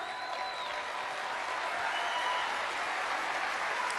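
Applause from a played recording of a political speech, a continuous, even roar of clapping and crowd noise that sounds slightly distant and compressed.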